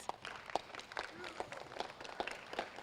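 At a 2016 Eddie Robinson football camp, a small group claps for the volunteer coaches: faint, sparse, evenly spaced claps in a loose rhythm, heard from some distance.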